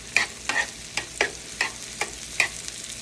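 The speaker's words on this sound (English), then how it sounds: "You want to always continue to stir. You do not want your garlic to burn." Garlic for shrimp scampi stirred in a hot pan, a utensil scraping in about seven quick, evenly spaced strokes over a steady low sizzle, close and moderately loud with no voices.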